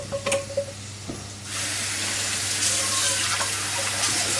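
Cold tap water gushes over cooked food in a colander, starting abruptly after a few clinks and then rushing steadily and loudly, close up, with no talk.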